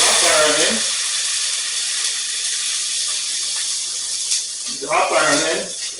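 Onion and garlic drop into hot olive oil and sizzle with a bright, steady hiss, and someone talks briefly before and after it.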